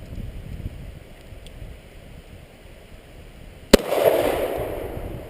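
One sharp Glock pistol shot, fired one-handed outdoors, cracks once after several seconds of wind-buffeted background noise, followed by a lingering rumble of wind and echo.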